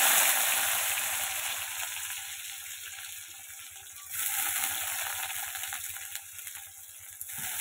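Onions sizzling steadily in hot oil in a pan, a dense continuous crackle with a faint scraping rhythm underneath, slightly louder after a brief lift midway, no voices.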